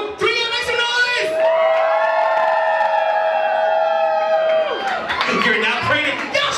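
Drag show audience erupting on cue, a long sustained high whoop rising over a roaring crowd of cheers and shouts, loud and close, with scattered yells at the end.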